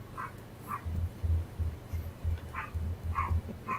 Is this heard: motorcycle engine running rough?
no